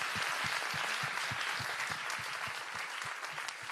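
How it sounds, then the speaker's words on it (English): Audience applause for the speakers at a talk: dense, steady clapping from a sizeable crowd, fairly close and even throughout, with individual claps standing out at the low end. "I want a huge round of applause for our speakers."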